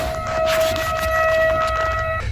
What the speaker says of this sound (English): the sirens sound quite high-pitched, almost like a car horn beeping long and restlessly.